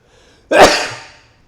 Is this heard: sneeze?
yes